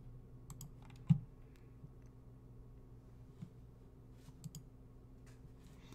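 Quiet computer keyboard typing and mouse clicks, sparse soft taps with one sharper click, faint and close with a low background hum.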